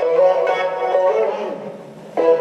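A beat's drop melody, with layered melodic synth tones over a low-passed sub bass. The phrases are sustained and bright and play alone for a couple of seconds, with a fresh hit near the end.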